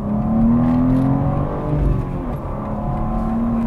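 A BMW M2 G87 with a manual gearbox and S58 twin-turbo engine accelerates hard, a loud, continuous rising engine note heard from inside the car, with no talking.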